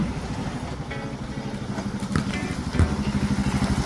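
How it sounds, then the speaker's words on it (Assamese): A motorcycle rumbles as it pulls up on the approach to a village football ground, its steady low engine note growing slightly louder toward the end with a couple of brief bumps. "ইফালে আমাৰ মিষ্টাৰ জাৰ্মানী চন্দন বড়ো আহি আছে বাইকত।"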